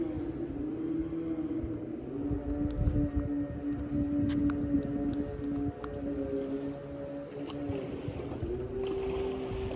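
Small boat motor running on a river, a steady droning engine tone with shifting pitch as it revs, fairly close and continuous throughout, with water noise underneath and no talk.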